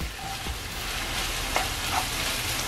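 Soaked meat stir-fried in one pan for japchae, a close continuous sizzle with quick scraping stirs and light utensil taps.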